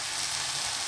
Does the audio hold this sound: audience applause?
no